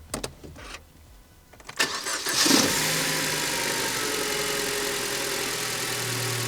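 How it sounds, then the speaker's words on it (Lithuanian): A BMW E87 engine, just rebuilt with fresh oil, cranks after a few faint clicks and catches at about two seconds, then settles into a loud, steady, even idle close by. "Tai dabar užsivedam ir paklausom."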